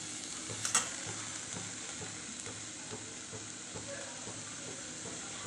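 Chopped ingredients for a paneer soybean pizza roll sauté in a hot pan, giving a steady close sizzle with soft scraping stirs throughout and a brief louder clatter near the start.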